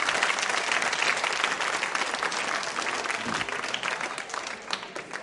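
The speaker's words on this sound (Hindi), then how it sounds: "तालियां बजाइए उनके लिए जोरदार तरीके से" Loud, continuous applause from a school quiz show audience at Mahaveer Digambar Jain School, a thick wash of many hands clapping that holds steady throughout without speech.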